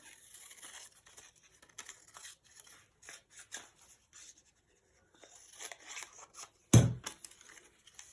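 Scissors snip through paper for a glue book in a run of quiet, close cuts and rustles, followed by one sharper, louder paper crunch or tear near the end.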